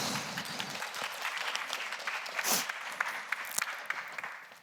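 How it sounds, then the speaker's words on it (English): Conference attendees applaud speaker Casper at a talk on medicine affordability. A short burst of fairly close clapping swells briefly and then tapers. "A big round of applause, please, for Casper."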